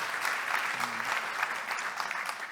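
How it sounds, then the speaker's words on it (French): An audience at an awards evening for entrepreneurs in Franche-Comté breaks into steady, even applause that fills the whole moment, with a faint voice briefly audible underneath. "Il faut l'applaudir en effet."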